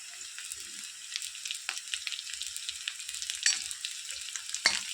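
Green chilies go into onions already frying in a pan, sizzling steadily with a soft crackle and a few sharper pops and stirring clinks, close and continuous, no talking.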